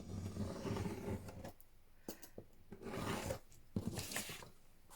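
Scissors cutting paper for a grungy junk journal, heard close and quiet as a few rasping snips and slides in separate bursts with short pauses between.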